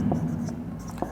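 Marker or chalk strokes on a classroom board during a biology lesson, faint scratchy scribbles running under a man's ongoing lecture speech.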